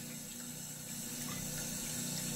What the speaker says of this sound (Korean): 물소리도 들려